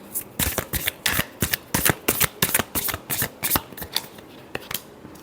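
A deck of tarot cards is shuffled by hand in a quick series of crisp riffling bursts, about a dozen close, loud ruffles in an uneven rhythm.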